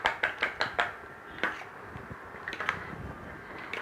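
A homemade cold cream mixture made with almond oil and essential oils is beaten in a bowl, giving a quick series of sharp, close taps followed by a few scattered knocks.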